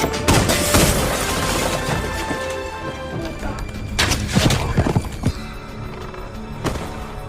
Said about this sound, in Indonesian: dari sini terjadilah baku tembak beradrenalin, di mana mereka bertujuh sangat hebat dan sangat jago sekali dalam menembak